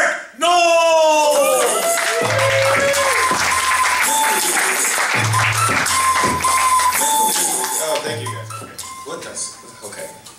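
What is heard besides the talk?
audience applause for a comedian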